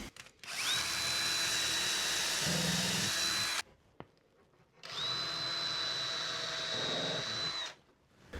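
A cordless power drill whines as it bores pilot holes through the edge of one wooden board into a second clamped board for a corner bookcase, two loud sustained runs separated by a short pause.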